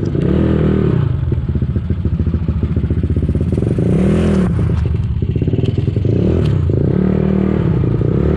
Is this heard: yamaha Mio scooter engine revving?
yes